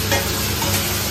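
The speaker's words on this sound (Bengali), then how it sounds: "সর্ষের তেলে বেশ কিছুটা জিরা ফোড়ন দিয়ে সেদ্ধ করা আলু দিয়ে দিয়েছে।" Boiled potatoes and cumin seeds frying in mustard oil, a brief, steady close sizzle with a soft stirring scrape.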